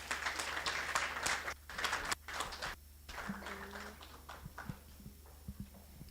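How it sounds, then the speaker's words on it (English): Scattered audience clapping at a Kenyan moot court competition's gift presentation, starting as a dense round of claps for the first few seconds, then thinning to a few sparse, quieter claps in a reverberant hall. "Let's give a round of applause."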